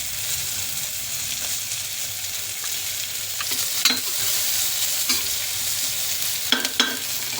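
Onions fry in a little oil for a tempering for mutton boti biryani, a steady close sizzling hiss with occasional scrapes of a stirring spoon, no talk.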